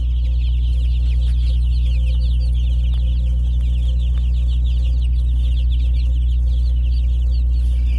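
Cornish cross, Red Ranger and Asian black chicks in a brooder bin chirp and peep continuously as a busy flock, with high cheeping running throughout over a steady low hum.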